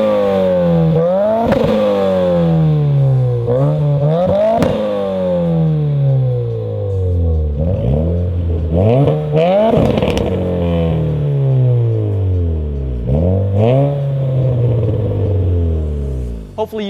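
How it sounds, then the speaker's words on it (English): A Subaru WRX with MXP and AWE Touring catback exhausts revs repeatedly and loudly up close, each blip rising sharply and then sweeping back down to a rumbling idle, in a series of closely spaced throttle pulls. "the MXP exhaust has an aggressive, higher pitch, raw tone to it, where the AWE Touring has a deep, rich tone with more gurgles and pops."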